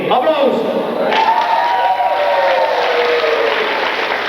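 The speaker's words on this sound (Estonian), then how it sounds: "Aplaus!" Guests at a 1992 Christmas party at the Saverna collective farm in Estonia applaud and cheer in a crowded hall, loud at first and then continuing under a prominent voice.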